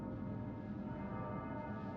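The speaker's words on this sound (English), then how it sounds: "It sounds like a bell, but where's it coming from?" A steady bell tone in Persona 3 Reload, a sustained ringing hum with layered harmonic resonance that holds evenly throughout, moderately faint and with no speech.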